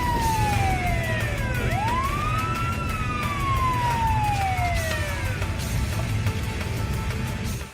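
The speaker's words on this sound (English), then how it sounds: "no. Police car." A police car siren sounds in a movie street scene, a loud wailing tone that sweeps up and down over traffic rumble and then cuts off at the end.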